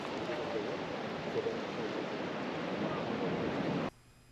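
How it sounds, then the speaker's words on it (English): Pacific Ocean surf along the rugged lava coast by the Hōlei Sea Arch in Hawaii gives a steady broadband wash of waves with some wind rumble, then cuts off abruptly near the end. "And there's the Pacific Ocean."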